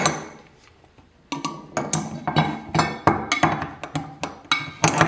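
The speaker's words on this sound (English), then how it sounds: "you can use the pliers to tighten it up" Pliers tighten a nut on a motorcycle auxiliary fuel tank fitting, giving a string of sharp metallic clinks and taps up close after a brief quiet start.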